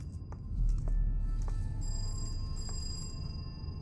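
A telephone rings in a short indie video game, its electronic ringing tone pulsing faintly in repeated bursts over a low rumbling background, with no talk.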